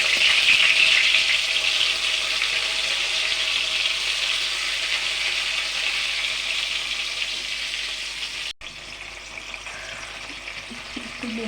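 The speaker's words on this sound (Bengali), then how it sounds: "ধীরে ধীরে ভেজে দেবো।" Food frying in a pan, a loud, steady close-up sizzle and crackle that runs on without a break, dipping briefly near the end before carrying on.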